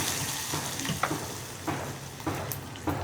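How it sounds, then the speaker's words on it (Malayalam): Hot tempering with dried red chillies poured into a boiling Malayalam-style curry, giving a steady frying sizzle with a few sharper crackling bursts and stirring sounds, close and moderately loud with no talking. "ഇനി നമുക്കിത് തിളച്ചുകൊണ്ടിരിക്കുന്ന നമ്മുടെ കറിയിലേക്ക് ചേർത്ത് കൊടുക്കാം"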